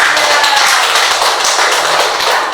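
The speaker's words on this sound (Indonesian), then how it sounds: "Oke, kita kasih aplaus" A classroom group claps together in dense, steady applause, loud and close, sustained evenly for a couple of seconds without talk.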